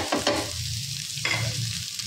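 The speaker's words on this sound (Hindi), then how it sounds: "और इनको भी हम मीडियम फ्लेम पे भून लेंगे अच्छा सा" Onion, tomato and spices fry over a medium flame in a pan, giving a steady close sizzle with two brief bursts of stirring scrapes.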